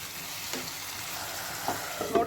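Chicken liver sautéing in masala in a pan without added water, a soft continuous sizzle and fry with a few stirring scrapes and spatula clinks near the end; close and fairly quiet, no speech.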